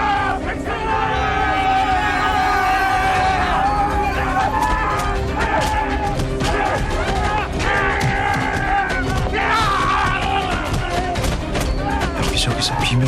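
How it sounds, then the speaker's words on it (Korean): A chaotic crowd screams and yells over sharp, repeated bangs like gunfire. The harsh bursts come one after another through a dense, loud din with overlapping shouting voices. "여기저기서 비명이 새어나오는데 지옥이 따로 없었죠"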